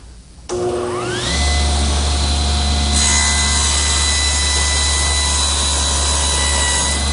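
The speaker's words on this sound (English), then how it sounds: "place it against the rip fence and make a pass through the saw" A table saw rips a board of wood along the rip fence during squaring-up stock for a butcher block, the motor's steady whine joined by a loud, continuous cutting roar as the blade bites, sustained close up.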